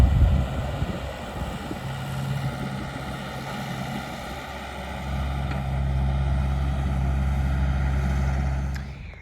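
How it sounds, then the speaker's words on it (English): A backhoe and a skid steer digging dirt on a home building site, heard as a steady low engine drone and hum that grows louder and fuller partway through, with no talking. "the guys teamed up on a backhoe and a skid steer to move the dirt as efficiently as they could"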